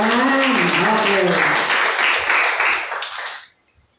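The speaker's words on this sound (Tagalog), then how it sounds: "Palakpakan po natin ang Panginoon" A church congregation bursts into loud applause for God during Sunday worship, dense clapping mixed with cheering voices that holds strong for about three seconds before quickly fading to silence.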